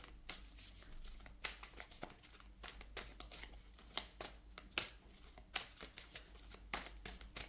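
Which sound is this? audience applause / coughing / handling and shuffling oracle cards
handling and shuffling oracle cards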